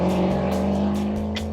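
Car 588, the New Zealand land speed racer Kiwis Can Fly, runs on a Utah course. Its engine holds a loud, steady droning note with layered harmonics for the whole moment, with no voices.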